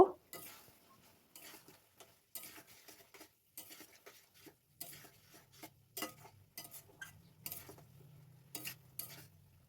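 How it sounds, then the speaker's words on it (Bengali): Coriander paste is stirred into a curry of small potatoes (aloo dum) in a pan, giving quiet, intermittent scrapes and soft wet sloshes in short, irregular bursts. "কিছুক্ষণ নেড়ে নেওয়ার পর ধনেপাতার পেস্টটা দিয়ে দিলাম। ভালো করে নেড়ে চেড়ে নেব।"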